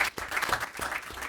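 Applause from a large arena crowd at a boxing event, a steady wash of clapping that is fairly faint and distant, with no talk over it.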